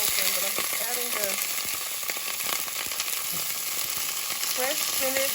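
Fresh spinach and mushrooms sizzle as they sauté in an open pot, a steady close frying hiss throughout with stirring clatter and a few short voiced sounds at the edges.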